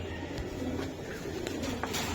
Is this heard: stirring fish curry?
no